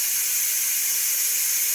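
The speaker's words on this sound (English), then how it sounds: "I don't know if I'm supposed to have all this steam in here." Steam hisses steadily from a Ninja Foodi cooking egg bites, a loud, close, unbroken high hiss lasting the short stretch with no talking.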